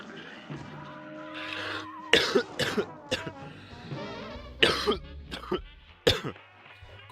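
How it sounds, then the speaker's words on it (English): Several harsh coughs and throat-clearing bursts come in clusters, loud and close up, with breathy pauses between them. "I'm just gonna cough right into the mic."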